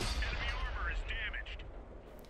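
Tank cannon fire in the World of Tanks Xbox 360 game from a T-62A at Prokhorovka, a loud boom at the start decaying into rumbling echo, with someone talking over it.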